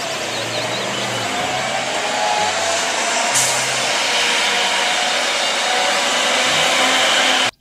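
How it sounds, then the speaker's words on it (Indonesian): The small electric motor of a toy concrete mixer truck whirs in a loud, steady, even drone for several seconds, then cuts off abruptly. "Mobil truk molen teman-teman."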